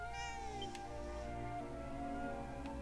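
A cat in the video game Dragon Quest VII gives a long drawn-out meow that wavers in pitch, faint and set against a steady game soundtrack.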